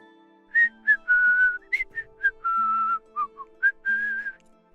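A single person whistles a short, lilting tune in clear separate notes over a quiet, steady background hum.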